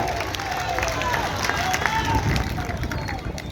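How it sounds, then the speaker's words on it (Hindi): A crowd at a political rally in Madhya Pradesh claps and cheers in a dense, sustained wash of applause with scattered voices mixed in. "जोरदार तालियां बजाइए इनके लिए"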